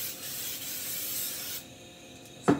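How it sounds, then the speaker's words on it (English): A kitchen spray bottle hissing in a steady burst for over a second, then a quieter pause and a short sharp click at the end. "Spray this thing."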